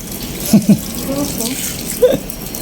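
Tap water runs and splashes during washing, a steady hiss broken by a few louder splashes, with a voice talking over it.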